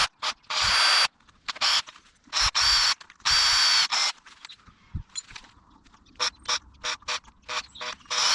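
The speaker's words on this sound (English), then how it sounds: "so I've just used a 5 mm drill bit to go through this" A 5 mm bit drills through an aluminium frame on a VW T5/T6 van for M5 stainless steel solar panel bolts. It comes as loud, close, short grinding bursts separated by brief pauses and small mechanical clicks.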